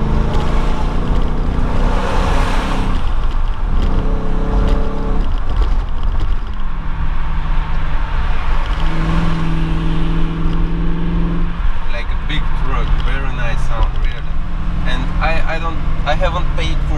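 Audi Allroad 4.2 C5 V8 with exhaust cut-off valves before the rear exhaust, heard from inside the car in a tunnel: the engine note rises and falls through several gear changes over a loud reverberant roar, with voices talking over it.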